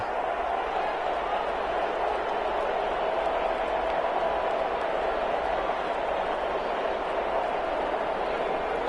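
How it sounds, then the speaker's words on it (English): Home crowd applauding in a PS4 sports video game, a steady, dense wash of clapping and crowd noise that holds at an even level throughout, with no talking over it. "And the home crowd applauding."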